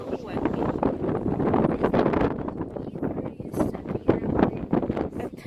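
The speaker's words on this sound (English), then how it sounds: "Just listen to the sound of it. Look, it's crazy windy." Strong wind buffets the microphone on a walking trail in loud, continuous gusty rumbles, with a voice speaking faintly underneath.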